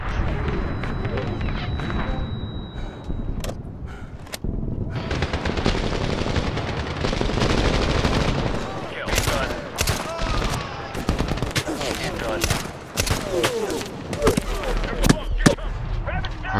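Machine gun fire rattles in the shooter Medal of Honor (2010) in dense, loud bursts mixed with other gunshots and battle noise, and it intensifies in the second half.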